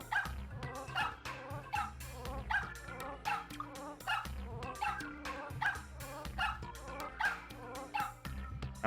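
Cartoonish dog barks sound in a repeating rhythmic pattern set against upbeat game music in Super Mario Maker 2, the short bright yips recurring roughly every second over a steady bouncing bass line.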